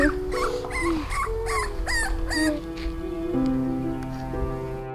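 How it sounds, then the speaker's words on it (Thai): A puppy whimpers and yips in a run of short high whines, close and fairly loud, over steady sustained music tones. "เหมือนเป็นเสียงลูกหมานะ"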